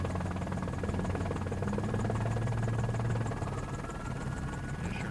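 A police helicopter circles over a bus pursuit by the California Highway Patrol and LAPD at night, its steady rotor drone and buzzing hum holding at a constant level throughout, with no talk.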